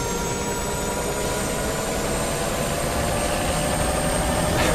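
A helicopter at low rotor RPM sounds up close, a loud, steady turbine whine over a deep, throbbing rotor rumble with no pauses.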